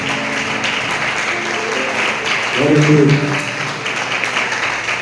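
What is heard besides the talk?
congregation clapping in praise at church service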